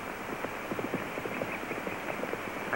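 Several horses gallop away with riders on a dirt trail in an old Western setting. Their rapid clip-clop hoofbeats run steadily at moderate distance, with no talking.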